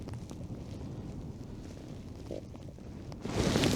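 Strong wind gusting over a frozen lake in a snowstorm, a steady low roar buffeting the microphone throughout and swelling louder near the end, with no talk.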